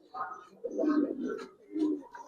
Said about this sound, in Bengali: একজোড়া লাল পাত্র কবুতর দেখেন ভাই